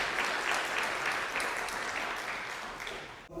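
A church congregation gives a round of applause, dense steady clapping that fills the room and fades slightly toward the end, with no talk over it.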